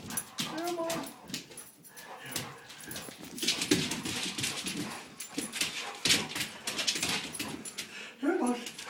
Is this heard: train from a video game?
no